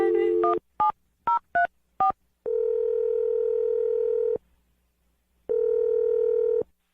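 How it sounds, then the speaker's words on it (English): Touch-tone telephone dialing: a quick run of six short beeps, then a long steady tone, a brief pause and another long tone, clear and fairly quiet. "We're going to dial the phone number right now for you."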